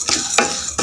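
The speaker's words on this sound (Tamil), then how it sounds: "தவாவில் பொட்டுக்கல்லையும் பாசிப்பருப்பையும் நல்லா மீடியம் ஃப்ளேமில் வச்சு நல்லா கருகிடாத பொன்னிறமாக வறுத்து எடுத்துக்கோங்க." Roasted gram and moong dal are stirred in a tava over medium flame, giving short scraping, rustling strokes of the dry lentils against the pan, close and fairly loud, with no talking.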